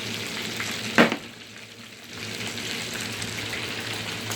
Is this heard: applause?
no